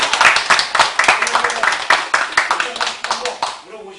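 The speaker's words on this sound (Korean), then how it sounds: "일단 여기서 박수 좀 쳐주세요." Loud, rhythmic clapping from parents at a school parent meeting in a room, a steady run of sharp claps that fades out near the end.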